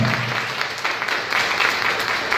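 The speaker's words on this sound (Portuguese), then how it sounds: "vamos aplaudir o nosso Deus" A congregation at a Catholic healing and deliverance Mass applauds God, a loud, continuous roar of clapping from a large crowd that holds steady throughout.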